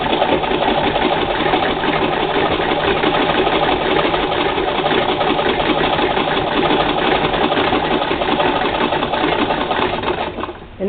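A sewing machine runs continuously while stitching a large pocket onto a backpack, a loud, close, steady mechanical whir that slows and stops at the very end.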